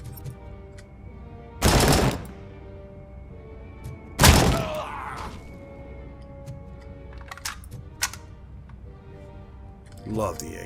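AK rifle fire in the video game Robocop: Rogue City, with two loud close bursts and a few sharper single shots and thuds across the stretch over a quieter game background.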